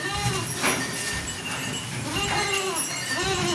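Young Beetal goat kids on a farm bleat several times close by, repeated wavering cries over a constant background hum.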